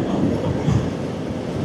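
A train rolling along a railway track beside rice fields between Bangil and Gempol in Pasuruan, a continuous nearby rumble with faint clatter, heard from a passing motorbike with road noise mixed in.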